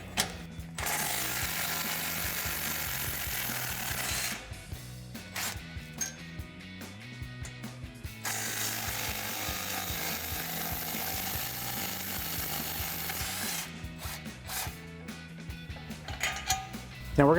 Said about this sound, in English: same 14mm socket for these 2 bolts as well